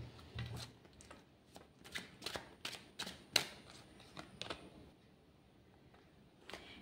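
Tarot cards are shuffled and pulled from the deck, giving faint, irregular papery flicks and snaps at close range in a quiet room, with no talking.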